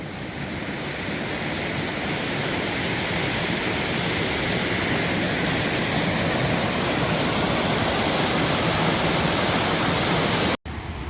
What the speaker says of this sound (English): into rushing cold water